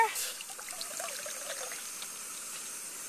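Water trickling and pouring steadily into a Jetboil Flash camping stove pot close by, a light splashing stream that fades slightly as it continues.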